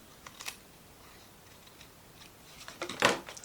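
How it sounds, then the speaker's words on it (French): Scissors cut fabric for a pencil case, a few faint snips early on and then a louder, crisp cluster of cuts near the end, close and quiet, with no talking. "Si ça dépasse, on vient couper."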